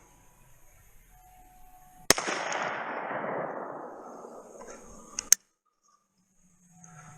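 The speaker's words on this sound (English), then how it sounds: "We're going to take a shot at the flower with the slug." A single loud slug blast from a Rossi Survival single-shot gun fired at a flower outdoors, a sharp crack followed by a long decaying rumble and a second sharp metallic click or snap a few seconds later.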